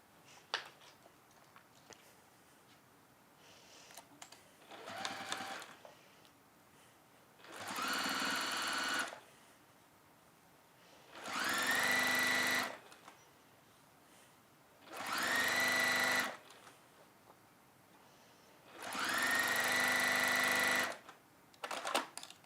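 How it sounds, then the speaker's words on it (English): A sewing machine stitches around the top edge of a fabric washbag, running in four distinct bursts of steady whirring, each a couple of seconds long, separated by pauses with faint handling noises. "you're going to sew around that top edge there and leave a turning through gap"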